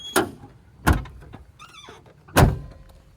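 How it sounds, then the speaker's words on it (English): Trunk lid and doors of a 1990 Toyota Camry, an older sedan with some rust, thud shut three times in succession outdoors, each closing a loud, sharp, close-up slam. "So let me just close the trunk."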